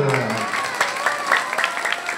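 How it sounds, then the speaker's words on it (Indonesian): An audience at an Indonesian religious health talk breaks into applause after a hadroh group performs, a short burst of clapping mixed with voices and cheering nearby. "tepuk tangan"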